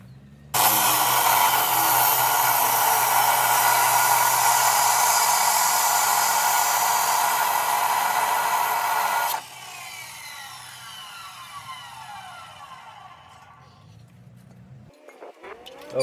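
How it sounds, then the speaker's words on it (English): A power saw cuts 2x3/8-inch steel frame sides for a tray build on a 1995 Toyota Tacoma, running as a loud, steady high whine for about nine seconds, then dropping to a quieter winding-down hum before stopping. "I am just cutting down the main frame sides out of 2x3/8-inch"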